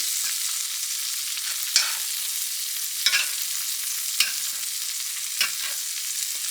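New York strip steak sizzles steadily in browning, slightly burnt butter in a pan, with a few sharp louder spoon-basting spatters and scrapes rising every second or so, close up and continuous without talk.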